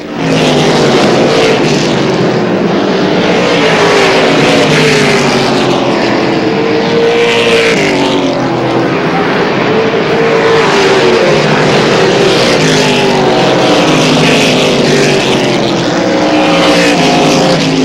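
Several race cars speed around an oval track, engines roaring loud and close, pitch rising and falling as they pass in repeated sweeping waves, one overlapping another.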